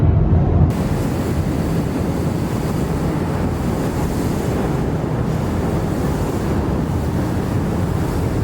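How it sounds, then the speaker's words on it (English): Heavy Atlantic surf crashes continuously against Lundy Island's coast during Storm Eunice, a dense, loud roar of breaking waves mixed with buffeting wind noise that holds steady throughout with no voices. "the wind was an almost deafening howl, and being so far down, the waves crashing in from the Atlantic looked small"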